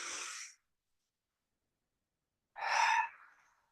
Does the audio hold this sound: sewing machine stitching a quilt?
no